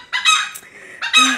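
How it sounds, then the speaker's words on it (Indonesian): A rooster crows nearby during a live beadwork session making a crystal bead headband, two loud harmonic bursts separated by a brief pause. "Kenapa dia harus berkokok di saat kita lagi live ya?"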